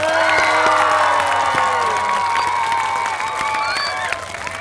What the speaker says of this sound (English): let's give Mayor Becker a great big round of applause and a cheer